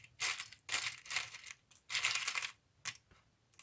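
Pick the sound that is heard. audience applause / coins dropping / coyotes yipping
coins dropping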